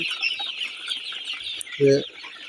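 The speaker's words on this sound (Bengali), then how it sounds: "দেখেন এই মুরগি কত সুন্দর মুরগি হয়েছে" Sonali chickens on a farm make a steady high chirping and clucking chorus, with one brief, louder low call near the end.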